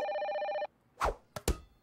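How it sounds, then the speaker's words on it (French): An emergency telephone in a stuck elevator rings with a rapid electric bell trill for just over half a second, then stops, followed by a few sharp thumps and clatters. "on va utiliser le téléphone de secours."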